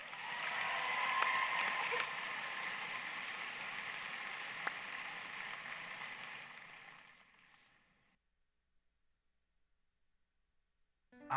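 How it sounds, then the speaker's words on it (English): Audience applause at a general session of a state FFA leadership conference in Iowa, a broad steady wash of clapping that holds for several seconds, then fades out and leaves silence. "Let's give him a round of applause for his sponsorship."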